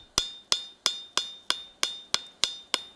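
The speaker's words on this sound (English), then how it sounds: "I'll forge a really nice bevel, nice and even." A hammer forging a bevel on steel, eight evenly spaced, sharp ringing blows about a third of a second apart, each decaying quickly, close and clear with no talking.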